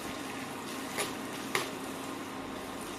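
Chopped onions with coarse salt frying in a pan over a medium flame for chicken fry, a steady soft hiss throughout with two brief louder crackles, no talking.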